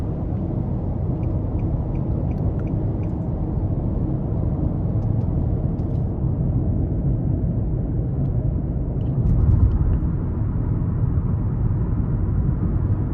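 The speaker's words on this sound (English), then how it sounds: "And road noise, of course, this having the beefier tires and just your 16-inch steel wheels is also" Steady low road rumble inside a 2024 Nissan Altima S with a 2.5 four-cylinder on 16-inch steel wheels and beefier tires, an even droning hum throughout with a slight swell near the end.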